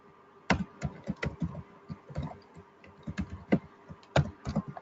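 Typing on a computer keyboard while writing a Python script, irregular bursts of sharp, close key clicks and thumps with short pauses between runs of keystrokes.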